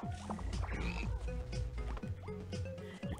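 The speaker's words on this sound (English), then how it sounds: "Sending out your fucking frogs!" Cartoonish frogs croak in rapid, bouncy bursts inside the BattleBlock Theater video game, a busy stream of ribbits and pitch-sliding blips layered with other game effects.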